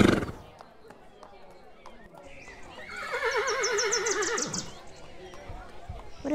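A horse in a video game gives a long, wavering whinny that rises and trembles for over a second, with faint background noise around it.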